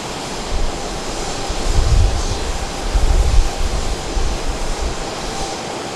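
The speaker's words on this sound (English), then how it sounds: "there's a great landing for the Socata turbine" A Socata TBM 700 turbine aircraft lands at Dallas Love Field, a broad, steady roar of engine and rushing air swelling twice in low rumbles, with strong wind noise throughout.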